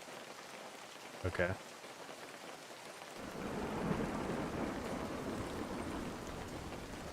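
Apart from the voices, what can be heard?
rain in the video game Lured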